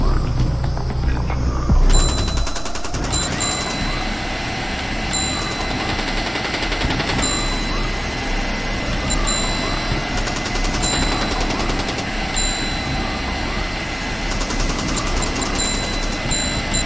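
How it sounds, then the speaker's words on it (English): Rapid bursts of AK rifle fire in the video game Jazzpunk rattle on continuously and fairly loud, layered over a steady mechanical background hum for the whole stretch. "Damn, nice AK."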